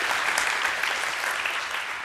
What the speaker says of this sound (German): Großen Applaus auch für ihn.